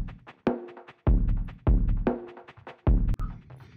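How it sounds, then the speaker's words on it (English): Ableton's stock Wicked Chillin' drum kit plays a verse beat: punchy kick and snare hits in a steady, laid-back groove with ticking hats between, close and clean with no voices. "On the verse, I also have this drum set, Wicked Chillin', which is also a stock drum set."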